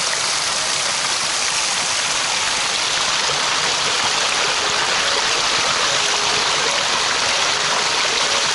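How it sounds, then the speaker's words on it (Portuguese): Water running steadily in a river stream at the Alte river beach in Loulé, Portugal, near small weirs used for bathing; a continuous, loud, broadband rush with no talking. "água a correr daquele lado."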